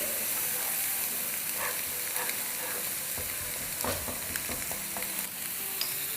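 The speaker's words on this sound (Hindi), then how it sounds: "अब इसको 2 मिनट भूनेंगे।" Masala sizzles steadily in a hot pan as it is stir-fried, a continuous bright crackle broken by occasional spoon scrapes and stirring clicks, close up with no talking.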